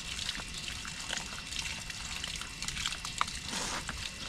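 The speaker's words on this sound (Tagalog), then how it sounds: "Kaya lalagyan na natin to ng tubig." Water pours steadily into a garden container while mixing soil for a backyard vegetable garden, a close, soft trickling splash with no one talking.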